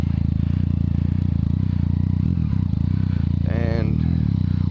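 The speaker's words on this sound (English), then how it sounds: "This Akrapovic makes a really nice noise." A 2014 Yamaha MT-09 (FZ-09) motorcycle fitted with an Akrapovic exhaust idles loud and close with a deep, steady throb, then gives a brief rising rev near the end.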